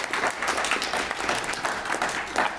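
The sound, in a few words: audience applause for the Lieutenant Governor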